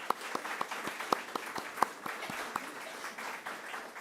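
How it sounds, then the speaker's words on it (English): Applause from the audience at a community theater event, honoring Bobby and the AAUW: a modest crowd clapping steadily with several sharp individual claps standing out, moderately near, with no speech over it. "How about a round of applause for Bobby and the AAUW?"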